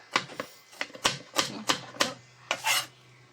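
A knife dices an onion on a cutting board, making about nine sharp, close knocks in an uneven chopping rhythm over a low steady hum.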